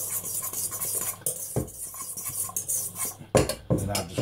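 A spoon stirs tuna with salt and pepper in a bowl, giving close, uneven scraping and soft clinks in quick irregular strokes, a few sharper knocks against the rim, and no talking.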